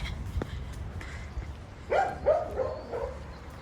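A neighbouring dog near a driveway in Sicily gives a short run of three or four barks at moderate distance, following a quieter stretch of outdoor ambience.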